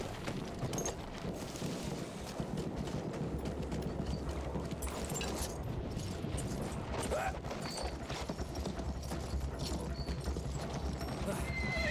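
Horse hooves clip-clop steadily in Battlefield 1 with a whinny rising mid-ride, set among a shelled village, all layered over constant battlefield rumble and a low droning engine-like hum.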